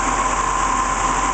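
A BMW demo prototype car's engine drones steadily as it accelerates a little, a loud, even hum with a sustained tone and no voices over it.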